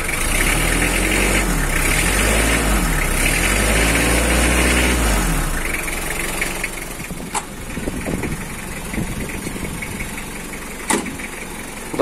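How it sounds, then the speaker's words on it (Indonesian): A 2011 Mitsubishi L300 pickup engine idles loudly and close with a steady rumble, easing off slightly partway through, with a couple of sharp clicks near the end and no talking. "Untuk mesin nyaring sekali pemirsa."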